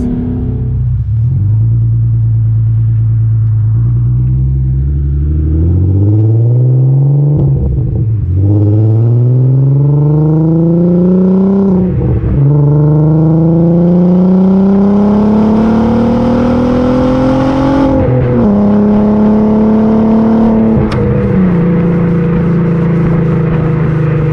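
A VW Caddy van's 3.2-litre V6 from a Golf R32 revs up repeatedly, pitch climbing and dropping through several gear-like pulls, close and throaty, with no voices.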